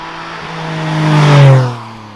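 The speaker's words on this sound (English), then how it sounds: "the sound this car makes is magnificent, especially for a car in 2021" A 2021 Porsche Boxster 25 Years anniversary edition revs its exhaust nearby. One loud rev climbs, peaks and falls away over about two seconds, heard on its own.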